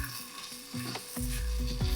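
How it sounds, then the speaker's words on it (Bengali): Ridge gourd and potato pieces fry together in a pan, giving a close, rising sizzle with a few stirring scrapes over two seconds. "এবার ঝিঙেগুলো দিয়ে আলুর সাথে আরো 2 মিনিট মতো ভেজে নাও।"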